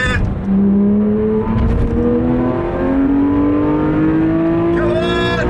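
A Porsche 911 GT3 RS 3.8 at speed on the Donington race track, its flat-six engine loud and close, pitch climbing steadily through a long pull, with a brief gear change near the end.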